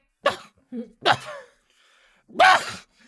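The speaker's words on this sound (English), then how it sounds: "You hear it like coughing from above you" Three harsh coughs, close and distinct, separated by short pauses with a faint breath between them.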